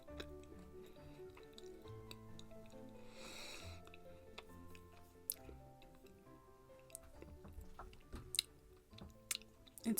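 Someone chews buttery cookies close to the mic, with quiet crunches and soft mouth clicks scattered over a faint hum and sharper bites near the end.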